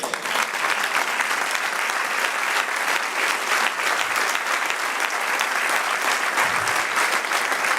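A church congregation gives the Lord a sustained round of applause, dense and even clapping from many hands that carries on for several seconds at a steady, fairly loud level without speech over it.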